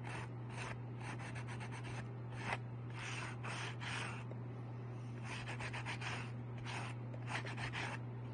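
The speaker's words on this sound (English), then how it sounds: "And just take your time and sand." Polymer clay being sanded by hand with quick repeated rubbing strokes in short bursts, faint and close over a constant low hum.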